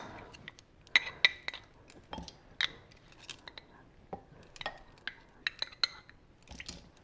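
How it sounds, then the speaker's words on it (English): Olives mashed in a bowl for stuffed pork tenderloin, a series of quiet clinks and scrapes of utensil against the bowl in an irregular rhythm, close and faint. "the next thing what I'm going to mash in here are these olives"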